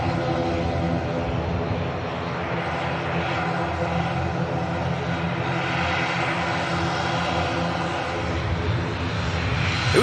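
An airliner takes off down the runway at Manchester Airport, its engines roaring in a loud, sustained, even rumble that holds throughout.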